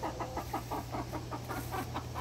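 A hen clucks steadily from a nesting box, the rhythmic clucks repeating about every quarter second over a constant low hum, close and fairly loud with no talking.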